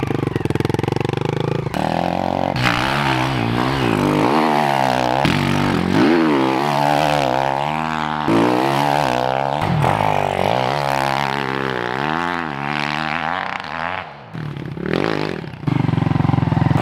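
A pit bike motorcycle ridden on a muddy track, its small engine revving up and down in rapid repeated surges with gear changes, loud and close throughout.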